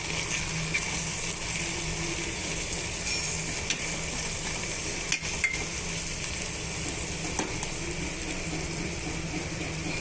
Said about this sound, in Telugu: కారము ధనియాల పొడి పసుపు ఉప్పు అన్నీ వేసేయాలండి ఇందులో వేసిన తర్వాత బాగా మిక్స్ చేయాలి